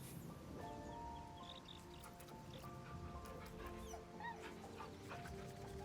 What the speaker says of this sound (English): It's our camp dog.